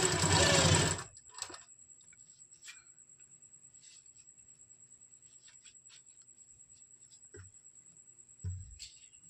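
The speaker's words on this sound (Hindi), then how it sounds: "अब हम इस तरह से अपनी इलास्टिक को स्टिच कर लेंगे।" A sewing machine runs in a loud burst at the start while stitching the elastic joint of a palazzo, then falls to a quiet room with faint scattered clicks and a soft thump near the end.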